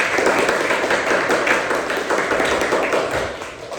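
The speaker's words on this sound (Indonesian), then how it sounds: "tepuk tangan untuk kalian semua" Classroom of students clapping together in response to the teacher, a dense, steady burst of many hands that stays loud throughout and tapers slightly at the end.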